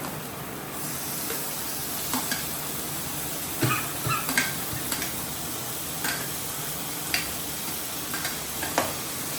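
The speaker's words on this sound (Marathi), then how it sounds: "आता हे टमाटर सोडते." Tomatoes dropped into a hot pan for a Maharashtrian vadi vegetable curry give a steady, moderate sizzle, with a few light clinks and taps of a spoon scattered through it and no voices.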